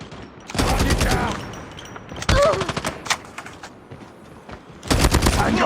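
Assault rifle fire in a Call of Duty match, three loud bursts of rapid automatic shots at close range, split by short gaps filled with background game noise and voices.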